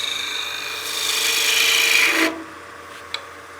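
Spindle gouge rounding over the sharp corners of a spinning wooden workpiece on a lathe, a steady close rasping cut building for about two seconds, then stopping, followed by a single faint click.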